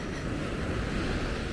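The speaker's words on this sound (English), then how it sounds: "when the waves crash against the break" Ocean waves crash against a breakwater on a Mexican shoreline, heard as a brief, steady wash of broadband surf noise mixed with wind, moderately loud and continuous with no voices.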